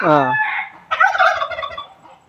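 Native country chickens kept in an areca nut plantation call loudly and close, with a drawn-out crowing cry followed by a rapid run of clucking.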